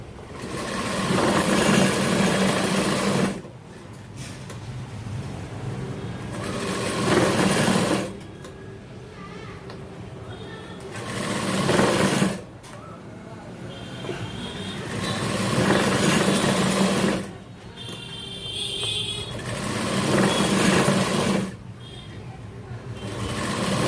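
Sewing machine stitching along the edge of a 42-inch jacket in a tailoring shop, running in repeated loud bursts of several seconds separated by quieter pauses, with talk in between.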